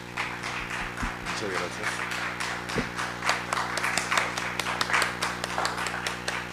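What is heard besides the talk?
audience applause for a guest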